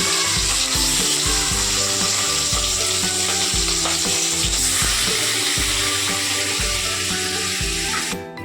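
Fish frying in hot oil during an outdoor khichuri meal, a loud steady sizzle and crackle filling the whole stretch with no talk.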